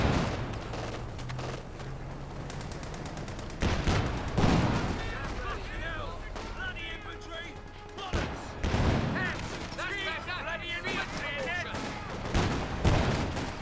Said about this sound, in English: And he's taking pot shots at that infantry section.